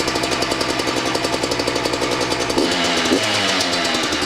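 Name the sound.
two-stroke dirt bike engine kick-started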